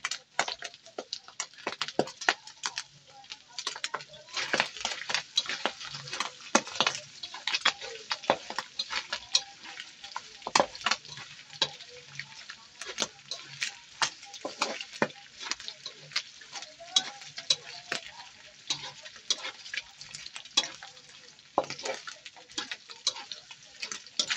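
Tocino fries in a pan with a dense, crackling sizzle and rapid sharp pops of spattering oil, close and continuous throughout.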